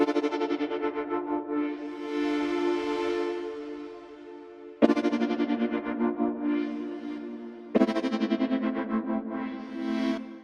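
Brake Fluid preset on the Lunacy Audio Cube plugin, a lush electronic chord pad with wobbling chorus and filter sweeps, played as three sustained swells, each entering with a sharp onset, no voices.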